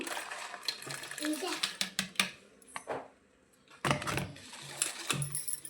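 Spoon stirring jaggery into milk in a metal pot while making junnu, irregular scraping and clinking of utensil against the pot, with someone talking over parts of it.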